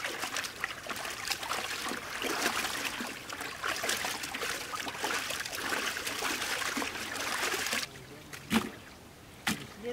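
Water runs and splashes while raw meat is washed, a close, steady trickling rush that stops near the end, leaving a few isolated splashes and handling noises.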